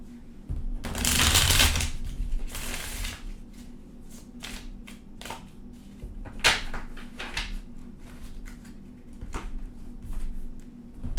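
Tarot cards are shuffled by hand on a table in several brisk riffling bursts, with softer card slaps and handling clicks between them and no speech.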